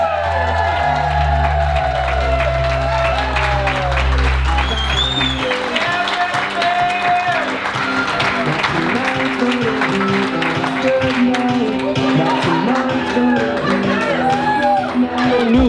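Wedding guests applaud and cheer loudly alongside a low, steady musical bed, with scattered whoops and shouts running throughout.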